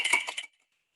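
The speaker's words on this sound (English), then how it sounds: "I rattle my keys" A bunch of keys rattled briefly, giving a quick metallic jingle of a few clinks that stops abruptly and leaves silence.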